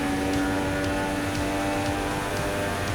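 Formula 1 racing car at full throttle on Monza's back straight in the F1 2016 racing game, a steady high-revving engine drone holding loud and constant throughout with no voices.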